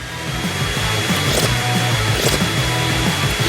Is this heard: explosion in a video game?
no